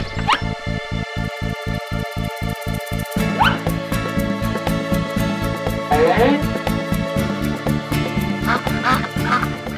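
A cartoon duck in an animated children's story quacks repeatedly and loudly over a steady, rhythmic musical backing.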